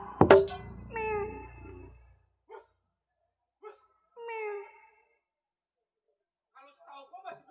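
A cat meows several times in a row: one loud, close meow at the start, then softer, drawn-out mewing calls with pauses, and faint chirpy cries at the end.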